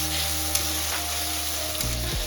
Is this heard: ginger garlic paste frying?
yes